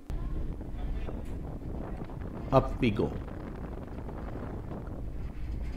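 Wind rushes on the upper deck of a ferry, a steady low buffeting against the microphone with brief louder gusts, while a person speaks briefly.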